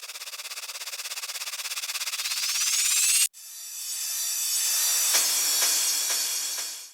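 Dark vocal house riser effects: a rising synth sweep with steady pulsing swells in loudness, cuts off abruptly, then a bright noise wash swells with a few sharp hits before fading.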